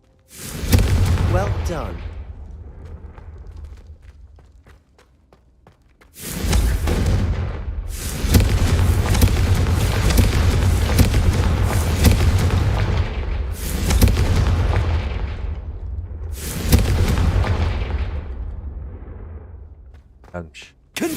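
Confringo fire-blast spell explosions in the video game Hogwarts Legacy, a series of loud, sustained booming blasts in several long bursts separated by brief pauses, with a short spoken line partway through.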